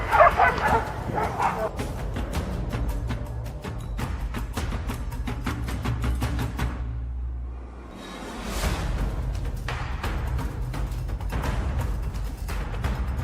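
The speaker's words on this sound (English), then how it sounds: "The barking of the hunting dogs grew louder, echoing through the mountains." Hunting dogs bark rapidly and repeatedly while chasing wild boar in the mountains, a dense, close volley of barks with a brief lull midway before resuming.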